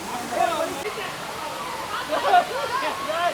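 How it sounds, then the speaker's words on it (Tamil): Lakkam Waterfalls in Munnar, running with fairly low water, gives a steady broadband rush that continues under a person talking throughout. "லக்கம் வாட்டர் ஃபால்ஸையும் நம்ம பார்த்து முடிச்சிட்டோம்."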